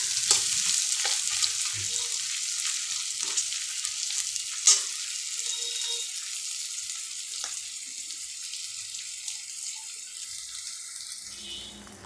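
Pumpkin frying in a pan gives a steady broadband sizzle throughout, with occasional stirring clicks and scrapes; no one speaks.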